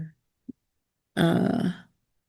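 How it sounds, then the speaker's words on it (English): A short, harsh cough or throat-clearing, close and fairly loud, after a brief quiet pause with a faint click. "I have a really bad cough"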